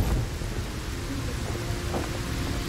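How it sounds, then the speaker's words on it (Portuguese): Thunderstorm ambience in the video game Lost Ark: a steady, dense wash of rain with low rumbling thunder underneath, continuous and fairly loud for the whole stretch, with no one talking over it. "Ih, tempestade."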